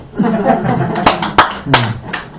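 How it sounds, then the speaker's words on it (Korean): A church congregation claps during a Christmas Day worship service, a few sharp hand claps standing out over a murmur of voices and light laughter nearby. "박수."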